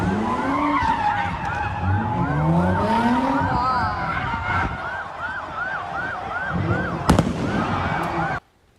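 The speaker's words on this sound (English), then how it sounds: "Cars did donuts while hundreds of people took to the streets, lighting fires, throwing fireworks, jumping on cars." Street takeover at a busy Philadelphia intersection, cars spinning donuts amid hundreds of people: repeated swooping tire squeals with engine roar, constant loud crowd noise, and a sharp firework bang near the end.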